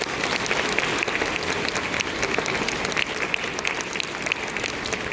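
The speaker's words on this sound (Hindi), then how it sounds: "एक बार आप जोरदार ताली बजा दीजिए" An audience at a Lok Sanskriti Diwas folk culture program in Uttarakhand claps steadily and vigorously for a children's performance, with dense, even applause throughout.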